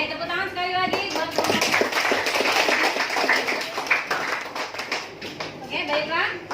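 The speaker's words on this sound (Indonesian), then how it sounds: "tepuk tangan sekali lagi" A classroom of students claps together, a burst of many hands, while children's voices and chatter carry over and around it.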